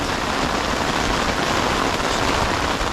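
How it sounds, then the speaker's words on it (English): Heavy rain pours steadily onto a tent, a dense, even hiss of drops with no pauses or voices across the short stretch. "Pouring rain out there."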